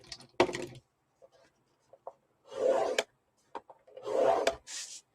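A scoring tool is drawn across an 8.5 by 11 inch sheet of paper, giving several separate close scraping, rubbing strokes with quiet pauses between them.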